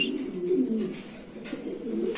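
A pair of Lahori pigeons coo softly and close by, a low, rolling run of repeated coos with no talk over them.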